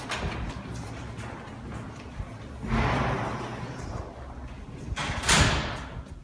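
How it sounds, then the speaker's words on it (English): Doors in an MIT dormitory slide and swing open and shut against a steady background hiss, with two louder whooshing surges and soft thuds spaced a few seconds apart. "So through these doors, we can actually access McGregor's study room"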